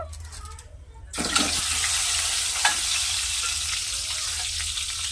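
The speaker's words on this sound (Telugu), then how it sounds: "బాగా వేపుకోవాలండి ఇవి వేగిపోయిన తర్వాత వేసుకొని పక్కన పెట్టుకోవాలి" Peeled boiled eggs fry in hot oil with a little chili powder and salt, a loud steady sizzle that jumps in after a quiet second and holds through, with a brief clatter near the middle.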